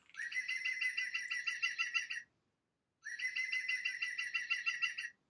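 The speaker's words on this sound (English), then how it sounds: "You hear how he's laughing. That's the green woodpecker or the yaffle." A green woodpecker, or yaffle, gives two bursts of its rapid, ringing laughing call, each about two seconds long, clear and alone with a short silence between them.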